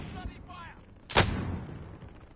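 A frag grenade goes off in the Call of Duty Warzone video game, one sudden deep blast with a rumbling tail, heard after some faint background game noise.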